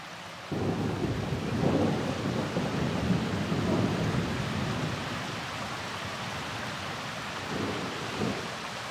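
Heavy rain pours in Meghalaya in northeast India, a constant hiss of rain on surfaces with deep rolling thunder rumbling through the first half and fading later.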